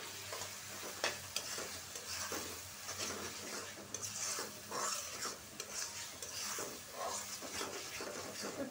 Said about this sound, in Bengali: শুটকিটা 2 মিনিট কষায় তারপরে আমি আলুগুলোও দিয়ে দিব।